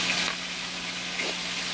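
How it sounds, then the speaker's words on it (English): Battered onion rings frying in a deep fryer, a steady bright sizzle and hiss running close and continuous with no talk over it. "And then we're going to fry them until golden."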